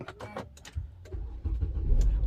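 A Nissan Teana J32 fires up via its push-button start, a short whirring crank followed by the engine catching and settling into a low rumbling idle, close by and alone.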